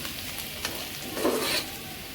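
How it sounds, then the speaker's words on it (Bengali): Bitter gourd and potato fry in a pan with a soft continuous sizzle and faint stirring, heard close but low in level, with no talk. "ভাবলাম একটু করলা ভাজি করি"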